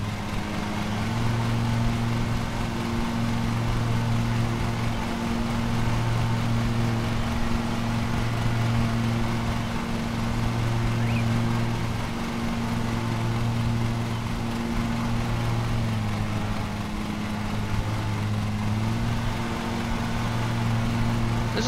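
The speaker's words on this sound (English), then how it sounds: "This is Lawnmower Simulator, Gary." A lawn mower engine in the video game Lawn Mowing Simulator hums in a steady, continuous drone, moderately quiet and unbroken for the whole stretch.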